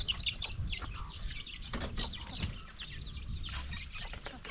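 Mother hen clucking while someone tries to catch her, agitated clucks and squawks mixed with scuffling and rustling, close and fairly loud throughout.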